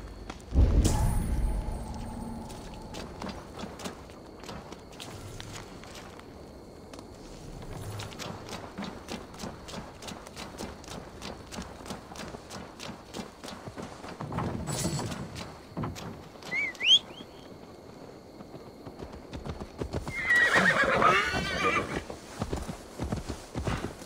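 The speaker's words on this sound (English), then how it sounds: "Now to deliver Magni his horse." Horse hooves clip-clop in a steady run in Assassin's Creed Valhalla, with a muffled thud midway and a short neigh or whinny near the end, moderately loud over a faint game background.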